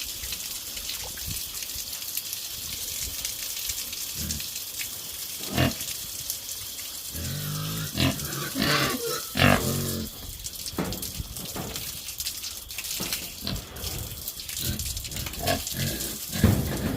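Pigs on an off-grid farm in Jamaica grunt and snort in scattered bursts over a constant rush of running water, with louder squeals and grunts clustering in the middle.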